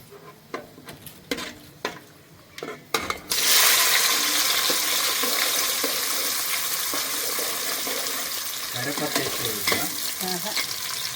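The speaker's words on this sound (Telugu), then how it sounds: "ఇప్పుడు నెక్స్ట్ ఉల్లిగడ్డ, పచ్చిమిర్చి వేసుకుందాం." Chopped onion and green chillies drop into hot oil for a prawn biryani, bursting into a loud, steady sizzle after a few spoon clinks, then crackling on evenly with occasional stirring scrapes.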